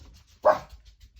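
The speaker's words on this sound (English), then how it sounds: "The dog is going crazy." A dog gives a single sharp bark at mid distance amid an otherwise quiet room, followed by faint low rumbling.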